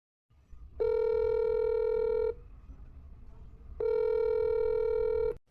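Telephone ringback or dialing tones: two long, steady electronic beeps separated by a pause, clear and prominent over a low background hum.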